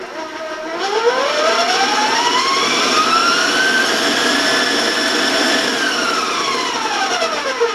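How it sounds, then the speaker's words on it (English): An electric mixer beats cookie dough in a bowl, a loud, steady motor whine with a pitch that rises and falls as it runs continuously, alone without talk. "Beat this till it's all combined. So I'm going to let it go for a couple more seconds here."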